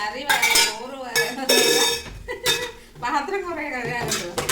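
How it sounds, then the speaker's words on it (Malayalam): Dishes, pots and pans being washed in a home kitchen, with repeated clinks and clatters of vessels and cutlery in irregular bursts, up close and fairly loud. "പാത്രം കുറെ കഴുകാനുണ്ട്."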